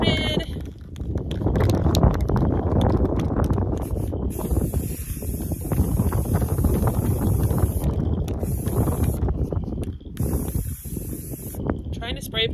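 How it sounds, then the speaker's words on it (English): Loud, blustery wind buffets the microphone outdoors during spray painting, a continuous roaring rumble with brief gaps, and short hissing bursts of spray paint cut in and out. "Trying to spray paint in the wind."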